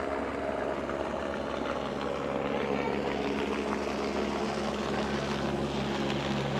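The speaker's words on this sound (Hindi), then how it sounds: "और सामने ही हेलीकॉप्टर उड़ रहा है।" A helicopter flies overhead near a Shiva shrine on the Manimahesh pilgrimage route, giving a steady, loud rotor drone with a low throbbing hum that persists throughout.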